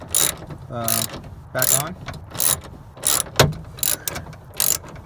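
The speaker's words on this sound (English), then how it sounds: "tightening up the 4 bolts that hold the whole locking handle mechanism" A ratchet tightens the bolts holding the sliding door handle locking mechanism on a Mazda MPV, sounding close as a series of rapid clicking bursts, with a voice talking briefly.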